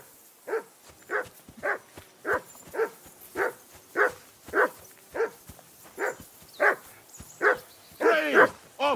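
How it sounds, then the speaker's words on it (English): A dog barks in the medieval role-playing game Kingdom Come: Deliverance II, about a dozen single barks at a steady pace ending in a quick double bark, moderately distant and alone. "I assume you can hear that damn dog of yours barking."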